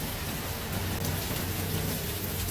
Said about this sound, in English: High winds, lots of rain.